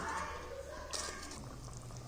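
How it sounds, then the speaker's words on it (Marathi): Vam fish curry gravy bubbling steadily in a pot over a medium flame, with a soft, continuous hiss and gurgle at close range. "इथे बघू शकता आपल्या रश्याला छान अशी उकळी फुटलेली पण आहे"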